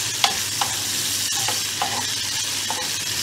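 Onions fry in oil in a pan over medium heat, giving a constant close sizzle broken by a few light clicks of stirring, with no talking.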